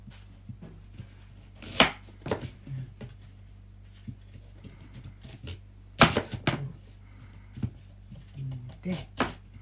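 A knife chops squid on a cutting board while it is turned, giving irregular sharp knocks, with two loud strikes standing out among lighter taps. An indistinct voice murmurs in the background, and a low steady hum runs underneath.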